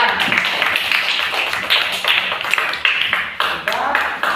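Schoolchildren in an elementary classroom clap their hands in a brisk, steady patter of applause, with a teacher's voice talking over it.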